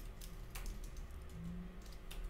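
Typing on a computer keyboard while coding in Java, faint scattered key clicks at an irregular pace, close but quiet, with no talk.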